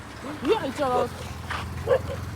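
A dog by a roadside late at night gives a few short, high yelping barks over about two seconds, fairly close, mixed with nearby voices and background hum.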